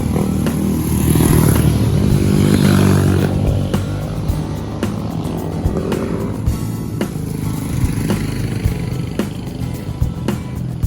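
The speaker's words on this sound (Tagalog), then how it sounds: "Daming mga motor, guys." Motorcycle engines rumble and rev nearby, a loud pass early on fading into steady idling and clattering traffic noise.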